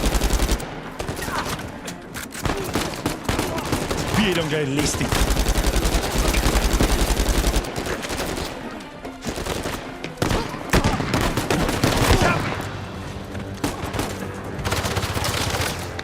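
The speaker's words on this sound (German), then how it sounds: "Erster Schuss." Rapid bursts of gunfire from the video game Uncharted 4 crackle loudly and densely over music and game sounds, with someone talking in German through parts of it.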